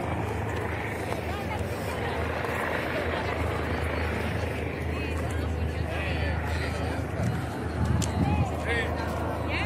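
Helicopter circling above the Mont-rebei mountain gorge in Catalonia, Spain, its continuous low thrum hanging in the background while wind gusts and people chat on the trail.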